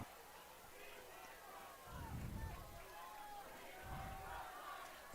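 Crowd at a high school football game between Monte Vista and Amador Valley in Pleasanton, a faint, steady murmur with two swelling surges of rumbling noise, heard from a distance under a commentator's ongoing talk.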